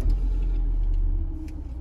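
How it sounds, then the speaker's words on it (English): A MINI Cooper S convertible with a 1.6 engine runs with a steady, deep rumble close by, holding an even idle throughout with no voices. "Just start the car up."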